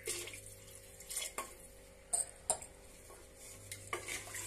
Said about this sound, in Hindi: 4 गिलास पानी डाल देंगे इसमें।